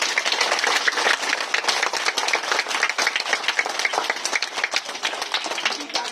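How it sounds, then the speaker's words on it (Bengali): A roomful of people claps loudly for a child at an event, a fast and dense run of hand claps that holds steady from start to finish. "তাহলে ওর জন্য আরো একটু জোরে হাততালি।"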